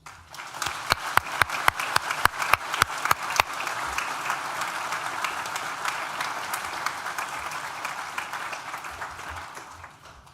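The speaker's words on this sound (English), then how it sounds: "Please join me in thanking them with a well-deserved round of applause." Graduation ceremony audience clapping at a university, starting with a few distinct sharp claps that quickly swell into steady, moderately loud applause, then slowly fading out.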